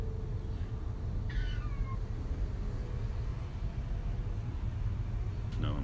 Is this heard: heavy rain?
no